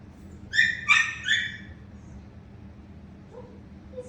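A dog gives a quick series of three or four high, yelping whimpers close by over a low background hum, then goes quiet apart from a faint trailing murmur.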